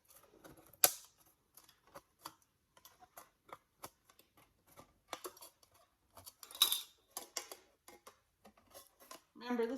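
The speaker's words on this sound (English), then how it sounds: "And I have a pair of metal cutting shears here." Metal-cutting shears snip the edges of a license plate: sparse, sharp, quiet snips and clicks at an irregular pace, close by, with a faint voice at times.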